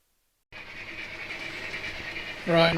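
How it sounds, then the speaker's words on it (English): A small model steam train rumbles steadily along its layout track with a thin whirring hum, starting abruptly after a moment of silence and growing louder near the end. "So I'll just keep running the train around to make sure that it gets through there."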